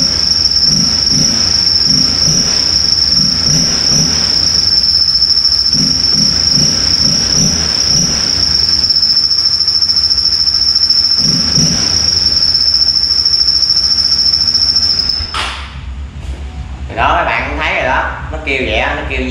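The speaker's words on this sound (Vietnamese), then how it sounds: "Kêu vậy đó, nó kêu như mấy con dế vậy đó." A fake Z1000-style exhaust whistle fitted to a motorbike shrills steadily for about fifteen seconds like a chirping cricket over the idling engine, then cuts out as the engine revs and a voice speaks.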